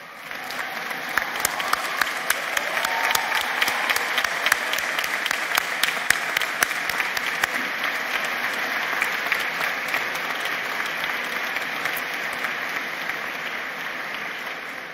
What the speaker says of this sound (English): I would like to ask you, our graduates, to stand and applaud the beloved members of your family